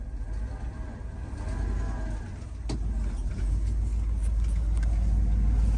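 An old truck backing uphill in snow, its engine rumbling low and heavy and swelling louder as it is throttled, with a sharp knock partway through and the drone building steadily toward the end.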